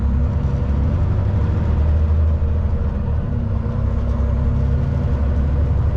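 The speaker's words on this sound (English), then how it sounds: "Now it's sounding like a truck." Steady low engine rumble from a European-style truck cab under way, close and continuous with a dense low-frequency drone and no talk.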